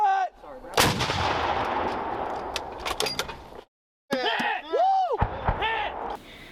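Army National Guard field artillery guns fire in booming blasts, with a heavy report rolling out, a brief silence, then more sharp clanking and whooshing bursts. A voice speaks in the background.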